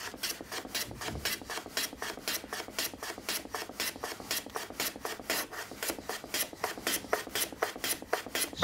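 A hand plane shaves a wooden board for a small box in steady, evenly spaced rasping strokes, close and dry, about three strokes per second with no voices.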